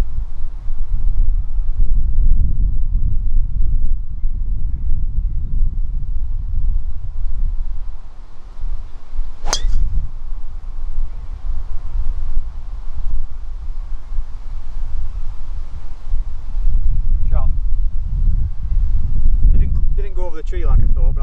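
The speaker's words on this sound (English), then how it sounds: "Bit of wind that way as well." Steady low wind buffeting the microphone on an open golf course at Marsden Park Golf Club, a continuous rumble lasting around twenty seconds beneath men chatting.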